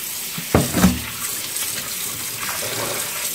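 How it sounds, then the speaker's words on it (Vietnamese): Tap water runs into a sink or basin to rinse fish, starting with a splashing gush and then flowing steadily at close range. "bây giờ mình xả nước vào."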